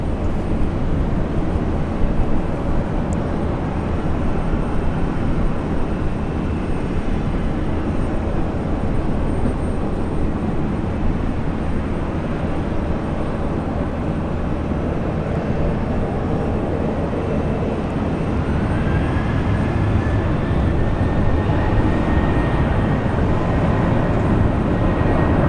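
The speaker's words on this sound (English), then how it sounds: "309, runway 19 left, cleared for takeoff." An airliner takes off from runway 19 left at Brisbane International Airport with a loud, sustained jet engine roar that stays heavy throughout, and a rising whine joins near the end.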